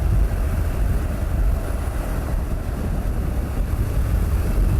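A Honda NC750 motorcycle rides along a rough road, its steady low engine and road rumble mixed with constant wind buffeting, loud and unbroken throughout.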